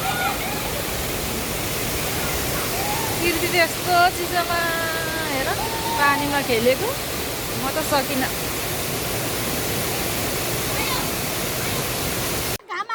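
A mountain waterfall pours in a steady, loud broadband rush that fills the whole stretch, with people talking and calling out over it partway through before it cuts off abruptly.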